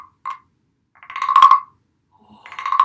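Large wooden frog rasp percussion instrument scraped in a few short bursts, a brief tap then two longer raspy ratchets with a bright clicking texture, close and alone.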